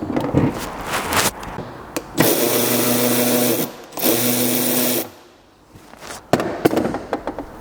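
Power tool spinning a 10 mm socket to remove a tail light on a BMW X5, two sustained loud whirring bursts of a few seconds each, broken up by clicks and handling clatter, close by, with no voices.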